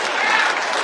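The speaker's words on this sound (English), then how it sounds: "Keep applauding for me." A live comedy club audience at a full-house improv show applauds in a brief, loud, dense wash of clapping close by.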